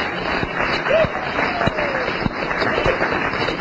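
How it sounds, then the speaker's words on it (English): Applause at a company compensation-plan event as a woman is called forward, a sustained patter of many hands from a seated audience, moderately loud, with occasional voices and a brief whistle-like tone mixed in. "give her a round of applause"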